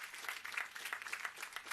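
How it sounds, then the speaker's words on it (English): Brief applause from an audience at a graduate business school commencement ceremony, a soft, fairly distant patter of clapping lasting under two seconds. "Please give him a round of applause."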